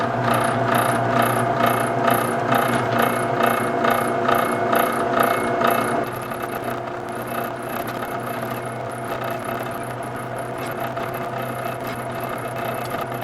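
A drill bores a 7/32 hole during a repair on a Dodge Ram 2500, with a loud, steady grinding rasp that pulses rhythmically at first, then settles into a smoother continuous drone.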